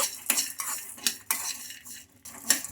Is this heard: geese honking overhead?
no